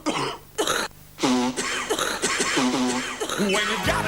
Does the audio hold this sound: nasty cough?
yes